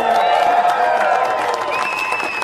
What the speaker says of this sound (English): let's hear this crowd roar